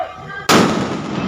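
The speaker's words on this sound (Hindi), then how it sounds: "बम फूट रहा है।" A single sharp firecracker burst goes off close by during Chhath puja in Bihar, a sudden loud bang that rings and decays slowly through the rest of the moment, with faint speech before it.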